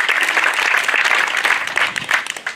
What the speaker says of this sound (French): On peut applaudir l'équipe de Julien